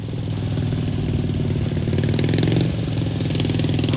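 A lawn mower engine with a welded differential runs at a steady idle, giving a loud, continuous low rumble with a slight rise in revs midway, with no talking.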